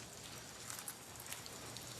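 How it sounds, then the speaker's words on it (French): Rain falls steadily in Taiwan, a soft, even hiss of drops with a few slightly sharper patters, faint and continuous with no voices. "Il pleut."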